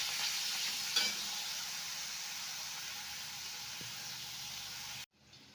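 Potatoes fry in mustard oil in a wok, giving a steady loud sizzle with one faint scrape of stirring, then the sound stops abruptly near the end.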